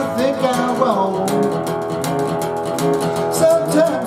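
Lively 1950s rock 'n' roll guitar playing a 12-bar blues, with busy strummed chords and bending lead notes, close and loud with no talking.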